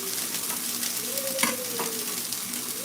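Food sautés in a pan with a soft, steady sizzle and occasional light stirring, heard fairly close and alone.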